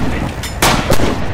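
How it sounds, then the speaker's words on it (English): Artillery strike in Red Orchestra 2, a World War II shooter: two loud broadband blasts in quick succession within a second and a half, each a sharp crack with a short rumbling tail over steady battle noise. "Drop artillery right on their radio."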